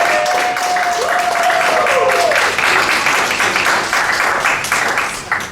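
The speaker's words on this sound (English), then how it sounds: "and let's give her a round of applause." Audience applause for improv speaker Kathy Klotz-Guest at a business talk, a steady wash of clapping lasting several seconds, loud and continuous, with a brief tone and some voices mixed in.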